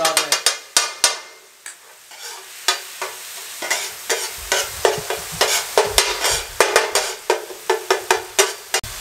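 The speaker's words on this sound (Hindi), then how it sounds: "2 मिनट तकरीबन इसको हमने फ्राई कर लिया" A spiced cheese sandwich filling fries in ghee on a street-food griddle, sizzling steadily while a metal spatula scrapes and clanks against the hot surface in quick repeated strikes.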